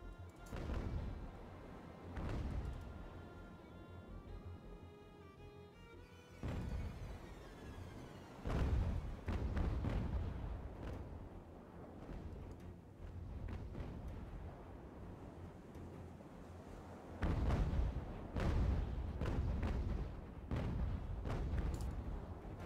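Naval cannon fire from sailing warships in Ultimate Admiral: Age of Sail, heavy booming broadsides rolling out repeatedly over a continuous rumble, some shots in quick clusters, loud and dense throughout.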